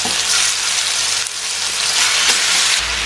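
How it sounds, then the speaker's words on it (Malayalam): Marinated chicken frying in oil, a loud, continuous close-up sizzle with faint stirring underneath and no voices. "ഇനി നമുക്കിതിലേക്ക് മാരിനേറ്റ് ചെയ്ത് വെച്ചിട്ട് ചിക്കൻ ഇട്ട് കൊടുക്കാം"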